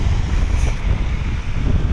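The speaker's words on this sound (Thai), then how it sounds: "แหมวันนี้ลมแรงเหลือเกิน" Strong wind buffets the microphone outdoors at a land-filling site with dump trucks, a loud continuous low rumble and roar throughout with no speech.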